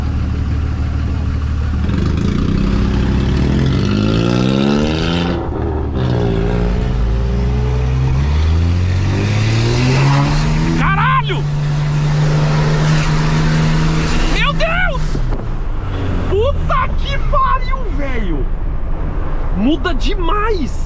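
A 600 hp Dodge Ram pickup truck engine revs hard in several rising bursts, its pitch climbing and falling between pulls, loud and close with people talking over it.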